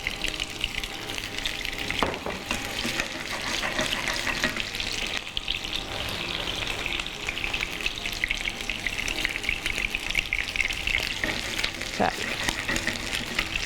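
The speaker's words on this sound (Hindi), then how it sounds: "शैलो फ्राई करेंगे, इसको डीप फ्राई करने की ज़रूरत नहीं है।" Chicken shallow frying in oil, a steady close crackling sizzle running throughout with occasional stirring clinks and a brief tap-water splash.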